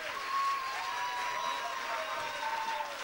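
An audience at a community gathering in Middelburg applauds a man named Alex, a short burst of steady, full clapping with a few whistles, swelling slightly at the start and sustained to the end.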